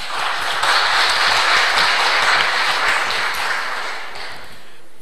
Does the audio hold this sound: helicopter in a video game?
no